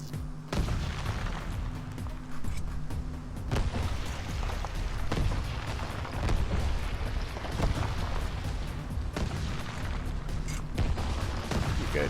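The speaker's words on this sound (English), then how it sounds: "So this was my first attempt at actually building a flak cannon." A flak cannon firing dynamite shells in the video game Trailmakers, a continuous roar of blasts and booms with sharper bursts spaced through it, loud and dense throughout.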